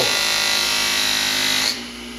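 A power polisher buffs stainless steel trim with a loud, steady high-pitched whirring grind that continues evenly, then cuts off sharply near the end, leaving quieter background noise, no talking.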